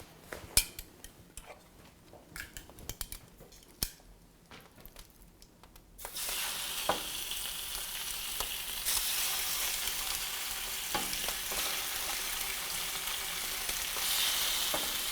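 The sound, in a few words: chicken sizzling in hot pan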